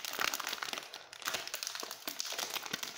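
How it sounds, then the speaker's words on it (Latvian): Plastic bags crinkle and rustle continuously up close, with crisp, busy crackling and no speech. "Kā man riebie šitie plastikas maisiņi."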